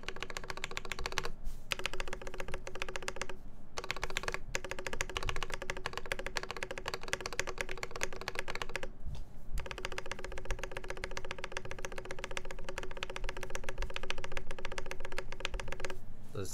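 Typing on a KBD8X MKII mechanical keyboard with no foam inside, including the shift keys, a continuous, fairly faint clatter of keystrokes with a few brief pauses.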